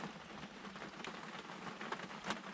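Heavy rain pours down outdoors on an early-morning hog hunt, a thick, steady hiss of drops with occasional louder splatters nearby.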